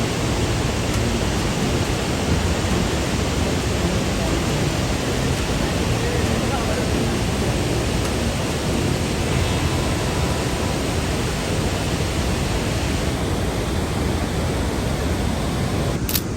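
Athirapally waterfall in full, heavy flow roars as a steady, loud broadband rush that holds constant from start to finish with no breaks.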